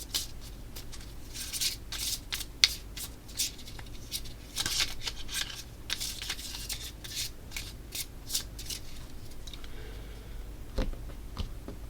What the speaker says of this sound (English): it gets shuffled right back into the deck